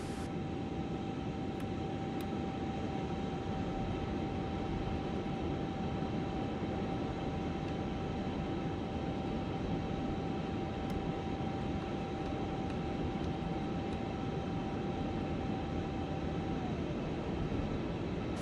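An airliner lands in the video game Microsoft Flight Simulator 2024, heard as a steady, continuous engine drone with a faint tonal whine, even and unbroken throughout.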